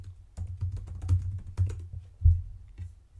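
Keys clatter on a computer keyboard in an irregular run of close, soft keystrokes with a few heavier taps, and no voices.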